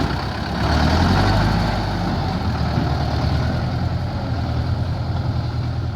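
A farm tractor's engine runs steady and loud while pushing soil, a constant low rumble with no gaps and no voices.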